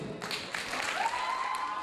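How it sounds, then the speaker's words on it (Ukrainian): Audience applause at a children's introduction presentation in the village of Stavchany: a steady, soft wash of clapping from a crowd, fairly distant and even throughout, with a faint tonal whine over it. "А зараз підтримаємо оплесками Барабаш Евеліну."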